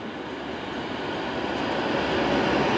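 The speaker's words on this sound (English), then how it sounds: "It's 390 132 with City of Birmingham off to London Euston." A Virgin Class 390 Pendolino, unit 390 132 "City of Birmingham," rushes through Stafford station on the West Coast Main Line bound for London Euston, a steady broadband roar that swells slightly and stays loud throughout.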